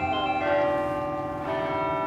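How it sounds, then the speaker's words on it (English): Large bells ringing at two o'clock with rich, sustained tones, one strike fading before another rings out, loud and resonant with no talking. "2 o'clock, time to ring the bells."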